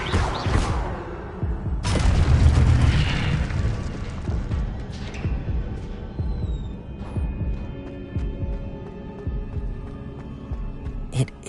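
Levioso spell cast in Hogwarts Legacy, a deep magical whoosh and rumbling boom that swells early, then fades into a low throbbing hum with faint shimmering tones.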